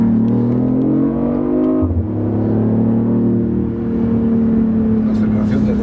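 A BMW i8 accelerates hard, its engine note climbing in pitch, dropping briefly at a gear change around two seconds, then pulling steadily again, loud and close throughout.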